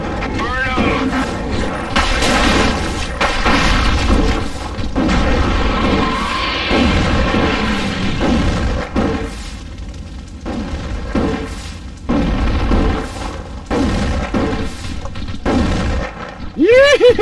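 Explosions in the video game The Thing, a dense run of heavy booms and rumbling blasts that stays loud and continuous, with speech-like voices mixed into the game noise and a rising whine near the end.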